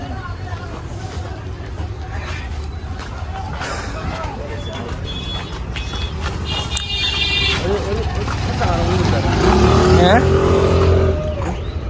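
Vehicles pass by on a muddy road during a travel day in Ajmer, engines swelling and fading over a constant background hum, loudest near the end, with people talking throughout.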